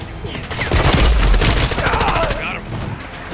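Rapid automatic gunfire from Call of Duty Modern Warfare 3 rattles loudly and continuously in a dense burst, with a faint voice underneath.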